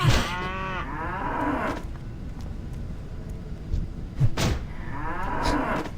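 Cows in the video game World of Warcraft Classic give two long, loud moos, one at the start and one near the end, with a low wind-like hiss in between.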